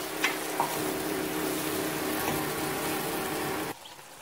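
Steady sizzling of masala frying in hot oil for an egg curry, a continuous crackling hiss with a couple of faint clinks, cutting off abruptly near the end.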